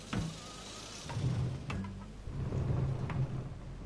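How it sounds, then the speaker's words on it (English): Steady rain with low rumbling thunder rolls under a few faint sharp clicks and knocks, with no voices. "it's late for rain"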